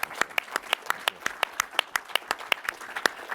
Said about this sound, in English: I'd love a round of applause just for the efforts there